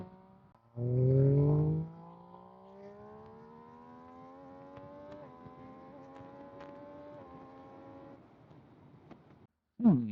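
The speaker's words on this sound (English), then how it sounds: "Induction noise on this thing is quite intoxicating" A 2023 MV Agusta Dragster RC motorcycle rides along with a steady, rising engine and intake drone, preceded by a loud burst of acceleration and ending with a short sharp blast after a brief drop.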